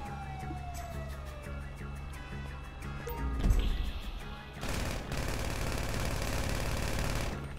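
A police siren wails in a Grand Theft Auto game during a BMX race, with steady tones and a rising whoop, then dense rapid gunfire and game noise take over in the second half.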